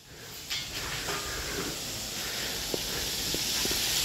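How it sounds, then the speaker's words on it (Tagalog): Chicken frying in hot oil at a roadside food stall in Cabiao, Nueva Ecija, giving a steady loud sizzling hiss with a few faint clicks, alone. "nagpiprito na si paring Kimpi ng fried chicken."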